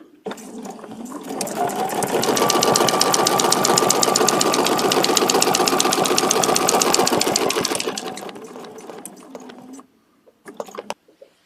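A sewing machine runs in a long steady burst of rapid, rhythmic stitching while sewing a quilt's spine to its base, then slows and stops, followed by a few brief clicks.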